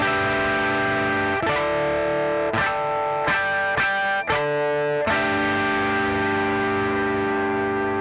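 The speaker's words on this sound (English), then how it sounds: "let's try the Seymour Duncans. See how those go on harmonics." Electric guitar through a Fender amp with a Tube Screamer and Seymour Duncan pickups rings out loud overdriven harmonics, a sustained chord struck again about five times in quick bursts before a final long ringing strike.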